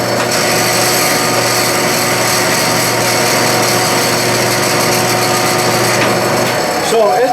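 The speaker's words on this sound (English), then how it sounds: "This is a noisy machine because of the Reeves drive" A Clausing lathe's motor runs loudly with a noisy Reeves variable-speed drive, a dense steady mechanical whir and hum that continues without letup, and a voice talks under it near the end.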